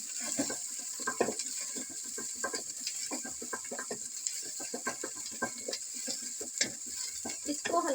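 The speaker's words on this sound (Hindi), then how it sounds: "इसको हल्का सा हमने फ्राई करना है" Onions frying with ginger-garlic paste, green chili and ground cumin for palak gosht, a constant sizzle under rapid, rhythmic scraping and stirring strokes of a spoon against the pot.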